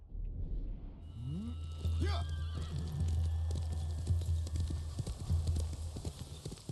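A horse in the video game Ghost of Tsushima whinnies once, then its hooves clop in a steady, close rhythm over a low rumbling game backdrop.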